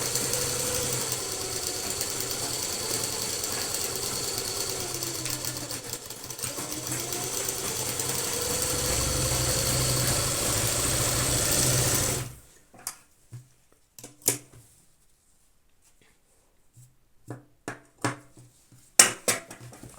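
A sewing machine stitches a seam along the border strip of a simple kurta, running as a steady mechanical whir for about twelve seconds before stopping, followed by sparse clicks and handling taps of the fabric.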